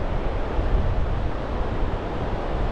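Strong wind buffets the microphone on a beach in Anglesey on a rainy, weedy day, a continuous loud low rumble mixed with the wash of surf and no voices.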